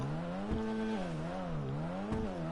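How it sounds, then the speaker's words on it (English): A game-modelled Annis Savestra engine revs up and down in smooth, rising and falling sweeps, with a couple of short sharp accents, loud and close, with no talking. "you gotta hear this engine, because to me, I think that's the selling point for this car"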